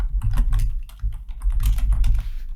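Code being typed on a computer keyboard, a steady close patter of quick key clicks with brief pauses.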